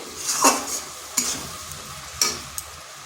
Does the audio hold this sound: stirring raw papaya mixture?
yes